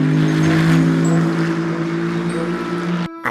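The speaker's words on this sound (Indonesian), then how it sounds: "yang ini mobil balap super kencang" A toy race car plays a loud, steady electronic engine roar with a sustained revving tone, close up, cutting off abruptly just before the end.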